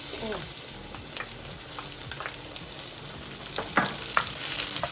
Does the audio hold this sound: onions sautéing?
yes